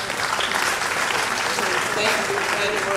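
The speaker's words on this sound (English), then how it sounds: "Please, round of applause for them." An audience at a science and technology lecture applauds the guest lecturer, a dense, loud wash of clapping that stays steady throughout, with voices mixed in underneath.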